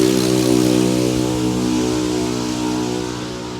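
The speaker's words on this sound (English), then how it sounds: "Excuse the traffic noise." Steady traffic noise from a nearby road rolls on beside an outdoor goat pen, a constant broadband rumble with a low droning hum underneath and no breaks.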